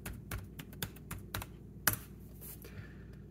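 Wi-Fi password being typed on the keyboard of a Dell 3180 Chromebook: quiet, close keystrokes tapped in an uneven rhythm, with one sharper key press near the middle, and no one talking.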